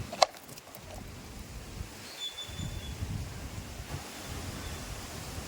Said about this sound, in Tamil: காற்று பாருங்கள் எப்படி அடிக்குதுன்னு. காற்று விசு விசு விசுன்னு பயங்கர காற்று.